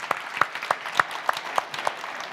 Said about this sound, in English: let's give a big round of applause for our whole panel